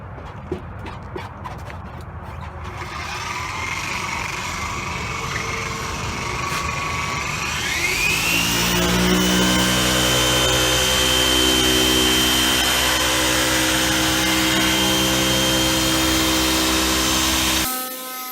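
A dual action polisher works over a car headlight lens during restoration, a steady whirring motor hum that rises in pitch partway through and then holds a loud, even drone until it cuts off near the end.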